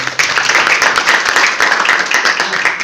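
Clapping from an audience at a company internal meeting welcoming its leader, loud and continuous, with many hands overlapping into a steady crackle throughout.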